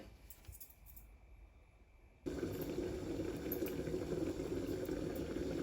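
Hilsa fish in mustard sauce cooks under a lid on medium-low heat; after a quiet stretch, a steady bubbling simmer rises abruptly and continues evenly, close and moderately loud.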